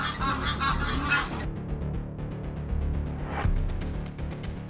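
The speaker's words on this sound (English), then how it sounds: "The geese erupted in fury, honking loudly and flapping their wings" Geese honk repeatedly in a loud, agitated chorus, overlapping calls close by with some flapping and commotion.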